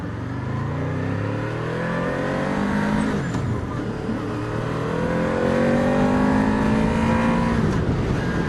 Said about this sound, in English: listen to that engine pull down, that engine braking, I like the way that sounds